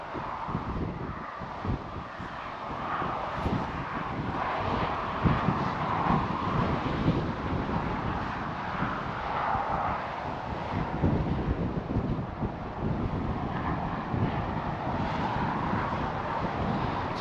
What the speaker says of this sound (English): It's exceptionally windy, as you can probably hear.